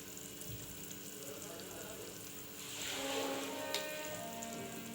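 Tomato, onion and garlic paste fries with garam masala and chilli powder in oil, giving a soft steady sizzle that swells louder partway through, faint and alone.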